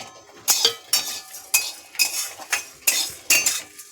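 Spices being stirred in a frying pan for a fish-head and cabbage curry, heard as repeated metal scrapes and clinks of a spoon against the pan, about eight sharp strokes in a steady rhythm, close and alone with no talk.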